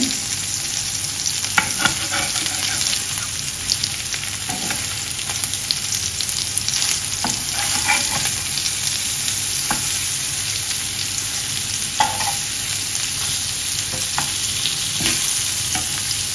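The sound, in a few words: sparrow pieces being flipped while frying in a pan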